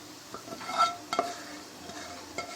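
Cooked kokoreç and its oil are tipped and scraped out of a metal pan, giving a few scattered clinks and scrapes of utensil on pan over a faint sizzle. The sounds are close and sparse, with no talking.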